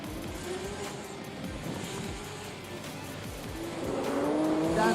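Two race cars battle in a drift competition, engines roaring and revving continuously with tire noise, the sound swelling louder toward the end as the cars come closer.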